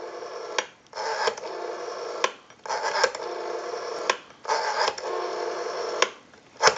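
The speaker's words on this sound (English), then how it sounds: "We have a nice smooth return on our rotary dial now." A Western Electric 500 rotary telephone dial, freshly repaired, whirs through several turn-and-return cycles with short pauses between them, a steady close mechanical buzz and clicks alone with no talk.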